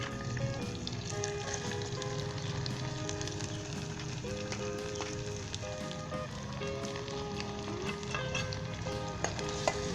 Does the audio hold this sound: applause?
no